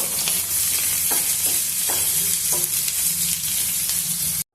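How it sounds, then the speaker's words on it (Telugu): Onion pieces sizzle steadily in a hot pan for a light frying, a dense, even crackle close by with a few soft clicks and stirs scattered through, no voices. "ఈ ఉల్లిపాయ ముక్కలు కూడా ఎక్కువ వేగాల్సిన అవసరం లేదు మనకు కొంచెం వేగితే చాలు"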